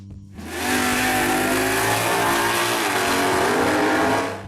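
A 1969 Dodge Dart Swinger with a 340 V8 roars loud and close, its engine swelling into a sustained high rev that holds steady for several seconds before easing off.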